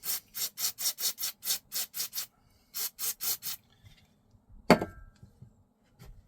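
A screwdriver scrapes a Toyota Celica fuel pump in quick rhythmic strokes, about fourteen close raspy scrapes in two runs, followed by a brief clunk and near silence.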